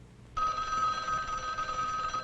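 A telephone starts ringing abruptly with a steady electric bell tone that carries on, loud and unbroken, with no voices over it.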